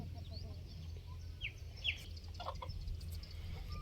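A free-range flock of Phanat-line chickens feeding together, giving soft scattered clucks and a few sharp chirps over a low steady background hum, fairly faint and without any talk.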